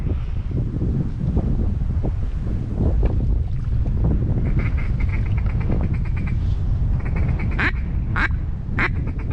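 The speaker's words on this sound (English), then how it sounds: "Hey, is that a duck in front of us?" Duck quacking outdoors during a hunt in Arkansas, several sharp nasal quacks in the latter half over steady loud wind noise from a boat on the water.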